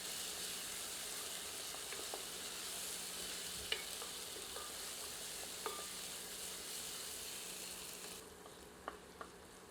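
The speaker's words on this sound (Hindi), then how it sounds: "इसे प्याज में मिलाकर 1 मिनट मध्यम आंच पर भूनते हैं।" Ginger-garlic paste frying with onions in a pan over medium heat, a steady low sizzle with a few soft stirring clicks and taps throughout, fairly faint and without talk.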